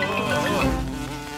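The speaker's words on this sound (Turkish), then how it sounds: "Baba domuz eşek arısından kurtuldu." A cartoon wasp in Peppa Pig makes a continuous, close buzz that wavers in pitch, lasts for the whole short moment and has no talking over it.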